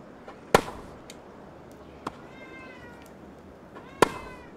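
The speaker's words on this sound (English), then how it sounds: "You can hear his meow, it's like muffled." A pet cat carrying a toy in its mouth gives a few brief, muffled meows, with sharp transient knocks nearby in an otherwise quiet room.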